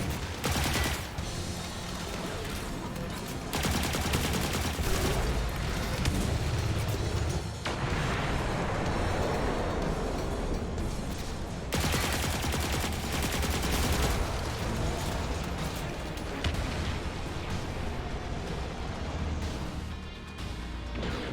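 Continuous gunfire in a Destiny 2 Master Nightfall, rapid automatic shooting and blasts roaring without pause through the whole stretch, loud and close, with no talking.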